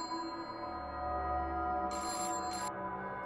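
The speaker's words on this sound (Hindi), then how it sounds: "तभी स्टोर में सुरेल की फोन आ जाते हैं।" A telephone rings inside a shop, short electronic ringing bursts standing out over a steady low background hum, with no one speaking.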